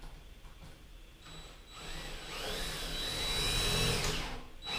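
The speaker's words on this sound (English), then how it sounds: "Now we're going to go ahead and drill this in." A power drill whirs up and runs steadily, its pitch shifting as it drives a screw in while hooking up a Rockler Dust Right 1.5 HP dust collector, fairly close and loud.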